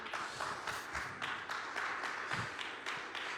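A church congregation at a Christmas service claps together in a sustained, dense round of applause with rhythmic surges, steady and fairly loud throughout.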